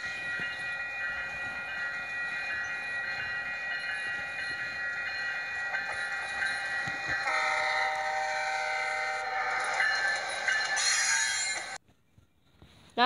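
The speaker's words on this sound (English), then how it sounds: "Now for the P42 horns that we know today." GE P42DC passenger locomotive horn sounding a long sustained multi-chime blast, shifting pitch partway through before cutting off abruptly, heard from a moderate distance without speech.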